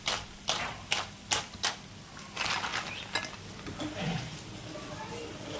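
Crispy double-fried eggs are lifted out of a frying pan with a series of sharp, crackly clicks and clatters, several distinct hits at first, then looser scraping and crunching close by.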